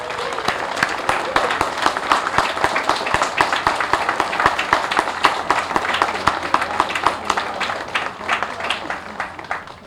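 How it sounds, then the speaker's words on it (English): A Veterans Day audience applauds the Girl Scouts and the school chorus, with dense, steady clapping across the whole stretch and a few voices mixed into the crowd. "let's again give a wild round of applause for our Girl Scouts and our school chorus"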